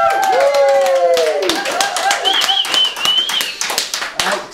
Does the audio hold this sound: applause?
yes